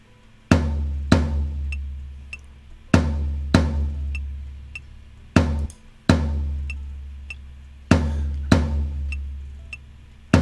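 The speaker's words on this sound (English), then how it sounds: "So now I have set just a very simple repeating drum beat here" A simple repeating drum beat on a tom: pairs of sharp, resonant hits with long decaying boom, spaced evenly and played alone, close and clear.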